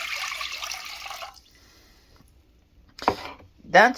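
Water pours steadily into a pot of sushi rice for over a second, then stops, followed by a few short splashing and clattering sounds up close.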